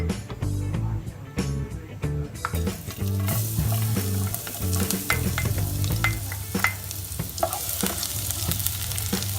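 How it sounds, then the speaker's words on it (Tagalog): Garlic dropped into hot cooking oil for pork humba, crackling and sizzling loudly with frequent clacks of a utensil stirring in the pan. "naglagay na tayo ng mantika at napainit na natin ito. So ilalagay na natin ang bawang."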